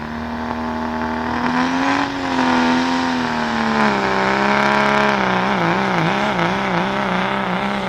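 Heavy truck engine at a truck pull spooling up, a loud close rising whine and roar that climbs and wavers as the revs build, continuous throughout without talk.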